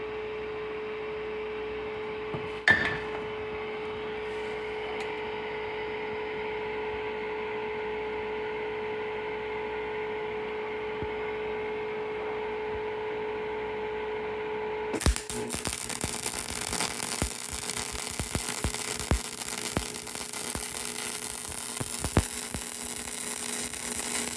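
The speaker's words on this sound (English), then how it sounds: "That welds like an old MIG machine." A vintage Harbor Freight MIG welder hums steadily, then the arc strikes and crackles with a harsh, continuous buzzing sizzle that persists loudly to the end, with no voices.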